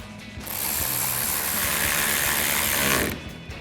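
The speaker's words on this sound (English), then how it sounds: "we'll go ahead and reinstall the 7 mil screw holding our wheel well trim in place" A ratchet tightens the 7 mm screw holding wheel well trim on a 2014-2018 GMC Sierra 1500, a steady, close, rapid clicking lasting a few seconds, then stopping, with no voices.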